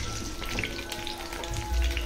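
Eggplant pieces sizzle and crackle in hot oil in a home kitchen, a steady close frying hiss with no talk.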